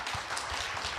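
An audience at a public hearing on easing Bukhansan height limits welcomes a speaker with a short burst of dense, close applause.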